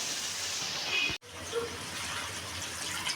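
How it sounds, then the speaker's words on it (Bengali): Steady rush of water pouring into a pressure cooker, a continuous gushing wash that breaks off briefly midway before resuming. "জল দিয়ে দিলাম"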